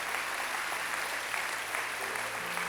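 A church congregation applauds parents: a soft, continuous wash of many hands clapping at a distance, steady and even throughout with no talking.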